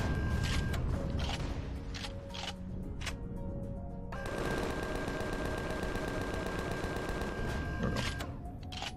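Rapid automatic gunfire from a cannon drone in Empyrion Galactic Survival, with bursts of fast repeated shots and heavy booms over about nine seconds and a short lull near the middle.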